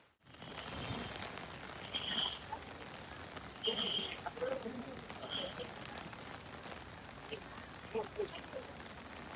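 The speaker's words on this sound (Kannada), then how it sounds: "ಫುಲ್ ಮಳೆ ಇದೆ" Heavy rain falls steadily outdoors at Dharmasthala temple, a dense, even wash of drops on surfaces that runs through the whole scene, with a few faint higher chirps and clinks over it and no clear talk.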